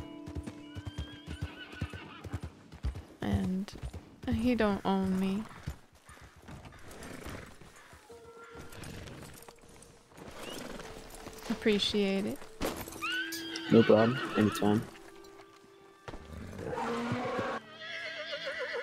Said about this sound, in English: That horse is trying to kick me.